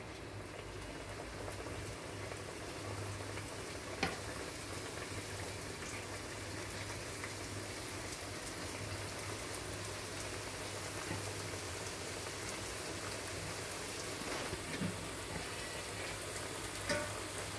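Somas frying in hot oil crackle and bubble in a steady, continuous sizzle with no pauses, close and even throughout.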